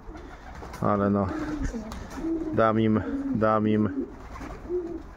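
Domestic pigeons coo in a loft with nesting birds, several rolling coo phrases close by, with a person speaking in between and over them.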